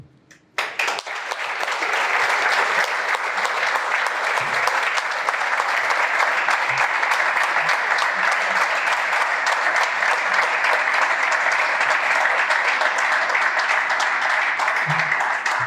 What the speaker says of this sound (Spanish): Es una ovación a Argentina.